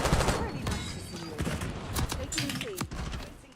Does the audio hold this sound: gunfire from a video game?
yes